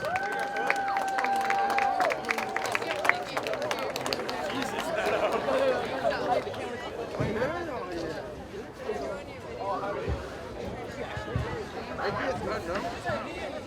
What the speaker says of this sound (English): please give a round of applause for our senior athletes and extracurricular participants